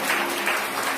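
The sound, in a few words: congregation applause in church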